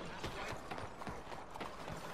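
Hooves clop in a quick, regular rhythm as a horse moves in Red Dead Redemption 2, the steps fairly close over a dense background of game ambience.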